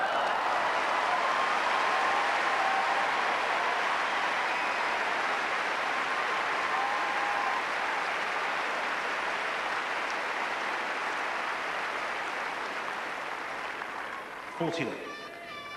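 Tennis spectators at a grass-court match buzz and clap steadily after a long rally, a broad, dense wash of crowd noise that holds for most of the stretch and thins slightly near the end.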